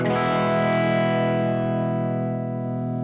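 A single sustained electric guitar chord, played with the tone knob rolled back for a darkened, mellow tone, rings out and slowly decays, alone with no talking.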